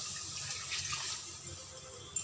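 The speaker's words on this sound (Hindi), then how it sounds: "तबे मु पानी देदेबी" Water pours into a pan of sizzling cumin and mustard spice paste for a drumstick-leaf curry made without onion or garlic, giving a steady, close broadband splash-and-hiss that runs throughout at moderate level, with no talk.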